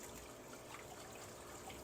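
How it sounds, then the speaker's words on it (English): Water being poured out of a fish tank, a continuous soft splashing trickle at low volume with no talk. "pour out some of that water."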